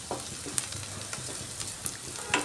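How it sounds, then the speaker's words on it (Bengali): Onion, garlic and ginger frying in a pan for a mung dal dish, a steady close sizzle with soft crackles and occasional stirring scrapes throughout, no talk. "রসুন, আদাটাকে এইভাবে ভেজে নিচ্ছি।"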